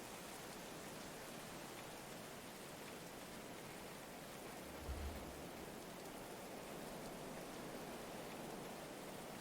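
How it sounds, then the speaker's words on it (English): Steady, soft rain hisses continuously in the medieval colony-building game Going Medieval, an even wash of falling drops with a brief low thump midway. "That made the rain look a little bit prettier."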